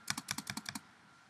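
Keys on a Mac keyboard clatter in a quick burst of about nine crisp, close clicks, then the sound stops and leaves quiet room tone.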